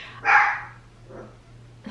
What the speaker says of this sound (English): My dog's gonna bark.